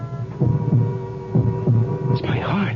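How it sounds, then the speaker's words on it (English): A heartbeat sound effect from a 1974 radio drama pulses as paired low thuds in a slow steady rhythm over a constant hum, close and prominent. "It's my heart beating."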